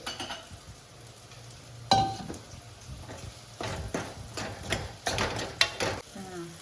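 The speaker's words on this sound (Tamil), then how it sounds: "போட்டு நல்லா கிளறி கொடுக்கலாம்" Ginger-garlic paste and spices stirred in a hot frying pan, with irregular scraping strokes of a spoon against the pan and a soft sizzle rising in bursts over a quiet kitchen background.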